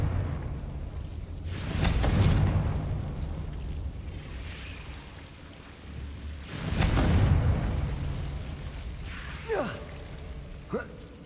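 Two booming Confringo blasting-spell explosions from the Hogwarts Legacy video game, each a heavy rumbling burst that swells and fades, followed by a few sharp whooshing zaps.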